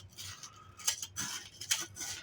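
A case knife scrapes around the rim of an angel food cake pan, a few soft metallic scrapes and light taps in quick bursts, close and fairly quiet.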